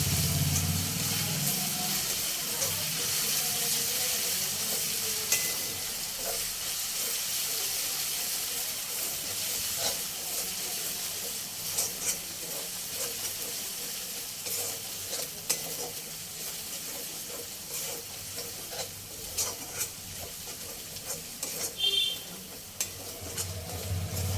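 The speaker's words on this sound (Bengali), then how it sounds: "1 চামচ আদা রসুন বাটা দিয়ে ভালো করে কষিয়ে নেব" Onion frying with ginger-garlic paste in a pan for chicken fry, a steady close sizzle and hiss with stirring scrapes running throughout, no talking.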